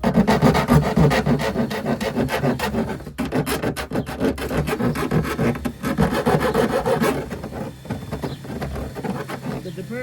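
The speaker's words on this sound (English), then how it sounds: "We got 2 size files, a round one and a flat one." A hand file rasps back and forth across a metal edge in rapid, rhythmic strokes, close and loud throughout, while a camper van's 30 amp RV power plug is being fitted.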